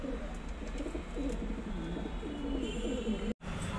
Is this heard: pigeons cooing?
yes